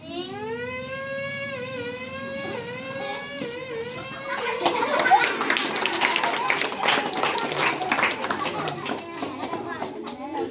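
A child vocally mimics a kitchen mixer grinder as a steady, rising and falling droning whine lasting several seconds, followed by a burst of audience applause.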